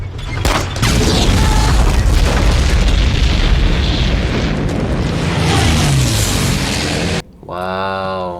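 Gunfire and heavy explosions from the war film Saving Private Ryan: a dense, continuous barrage of booms and shots lasting about seven seconds, loud and close, ending abruptly as a voice begins to speak.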